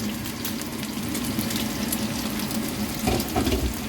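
Food pan-frying for about two minutes until golden brown, a steady close sizzle with watery crackle throughout and a few louder bursts near the end.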